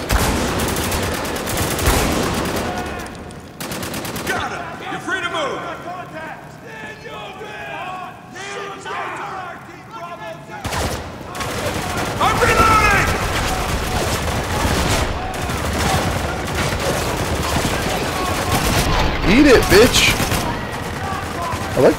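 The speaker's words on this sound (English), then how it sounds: "Oh, okay, my guy's up there shooting them." Gunfire from the video game Spec Ops The Line rattles in repeated bursts and sustained volleys, mixed with game action noise while someone talks over it.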